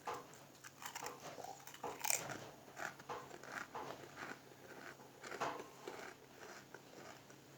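Ridged Samba Maxi potato chips with pesto seasoning are bitten and chewed up close, giving a run of crisp crunches and crackles over several seconds with no speech.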